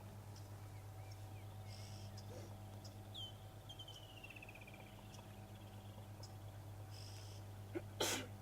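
One brief, sharp sneeze near the end, loud against a quiet open-air background of steady vehicle hum and faint insect or bird chirps on an evening safari drive.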